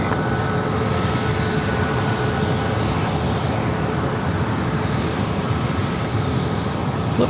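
A Southwest airliner on its takeoff run from runway 27 at San Diego airport gives a steady, loud broadband engine roar with no let-up, heard from a distance and alone.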